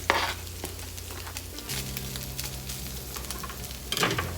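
Onion hits a pan of browned ground turkey and sizzles steadily, with stirring scrapes and clatter over the frying; no speech.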